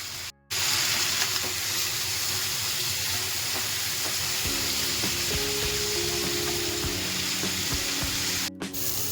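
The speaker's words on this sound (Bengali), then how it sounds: "ওটাকে এখন আমি একটু ভেজে নিই তেলের মধ্যে হলুদ নুন দিয়ে" Potatoes and pointed gourd sizzle steadily in hot oil with turmeric and salt, a close, continuous frying hiss with occasional stirring scrapes and clinks, no one talking.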